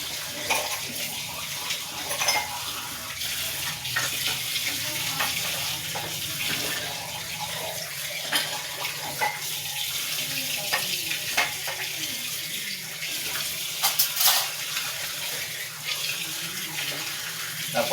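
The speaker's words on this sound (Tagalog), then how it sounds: "Napakasarap maghugas ng pinggan, ng baso, na hugasan, pag malakas ang tubig." A kitchen tap runs hard while dishes and glasses are washed, giving a continuous loud hiss of splashing water with scattered clinks and knocks of dishware throughout.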